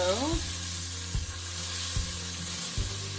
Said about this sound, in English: butter is melting and it's too hot